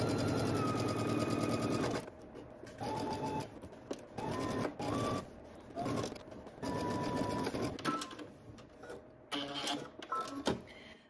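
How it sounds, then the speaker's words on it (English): A sewing machine stitches a sleeve seam at 5/8-inch allowance for a Simplicity 9539 pattern, running in a loud steady burst at first, then in shorter start-stop runs with brief pauses between them. "We're going to stitch using 5/8 of an inch seam allowance."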